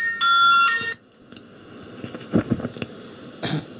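A phone rings with a bright, steady electronic tone for just under a second at the start, then stops, leaving faint room noise and a few soft knocks or throat sounds.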